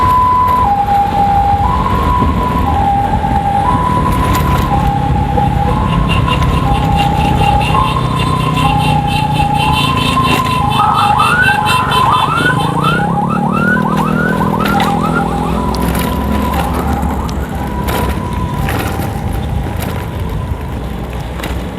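Loud two-tone ambulance siren alternating steadily, then switching to a rapid warbling wail, over traffic noise nearby.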